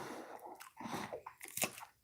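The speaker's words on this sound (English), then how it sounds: "I've been chewing on this damn salad." Crunchy bites and wet mouth sounds of someone chewing a salad close to the mic, in irregular bursts with short pauses and no talking.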